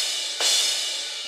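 A crash cymbal sample struck once on a Donner dual-zone electronic drum pad gives a bright, washy crash that swells suddenly and then rings on with a slow, shimmering decay, heard alone with no talking.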